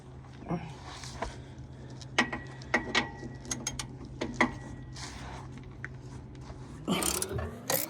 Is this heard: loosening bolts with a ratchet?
yes